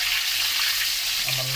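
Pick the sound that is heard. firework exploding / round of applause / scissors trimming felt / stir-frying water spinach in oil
stir-frying water spinach in oil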